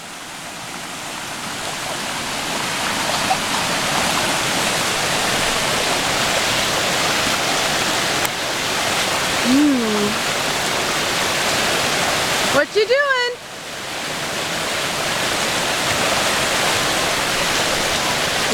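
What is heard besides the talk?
loud rushing water of a stream near camp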